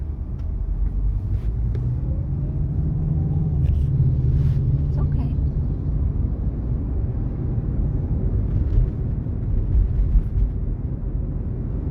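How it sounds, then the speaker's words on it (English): Road traffic heard from inside a moving car forms a steady, low engine and road rumble. A brief spoken remark comes through over the continuous drone. "Traffic is getting a little thick here"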